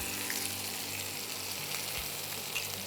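Chicken pieces frying gently in a pan over a low flame give a steady, soft sizzle and crackle throughout, close by, with no talking.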